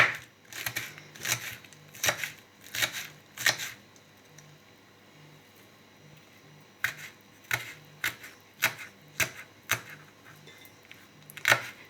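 Rapid bursts of knife strokes finely chopping vegetables for a shepherd's salad on a cutting board, coming in quick clusters separated by brief pauses, close and crisp.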